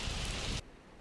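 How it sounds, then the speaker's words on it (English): Rain pours in the Bad Cop Simulator video game, a dense, loud rushing patter that cuts off abruptly partway through, leaving only a quiet background. "Oh, the rain has stopped."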